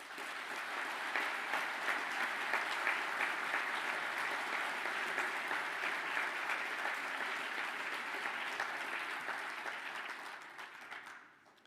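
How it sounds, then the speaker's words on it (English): A long, steady round of applause from a standing graduating class and audience at a Bachelor of Engineering graduation ceremony, dense and even throughout before tapering off at the end. "I'd ask the class to stand for a round of applause."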